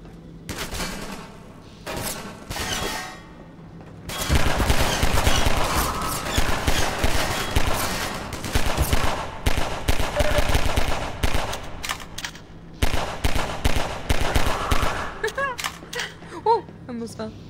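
Sustained automatic gunfire from Half-Life 2 combat, loud and dense bursts rattling in long stretches with brief pauses, mixed with heavier booms and impacts and no talk.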